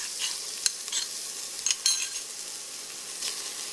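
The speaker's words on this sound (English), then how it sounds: "I'm going to make sure both ginger and garlic are fully cooked in the onion" Ginger and garlic frying with onion in a pan, a steady broad sizzle with a few brief scrapes of stirring, close and moderately loud, with no voices.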